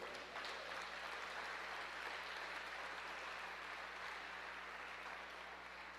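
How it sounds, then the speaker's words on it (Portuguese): A church congregation applauding in praise during a sermon: steady, dense clapping that fills the room evenly for several seconds, heard from a distance and fairly quiet. "Então eu queria que você aplaudisse ao Senhor"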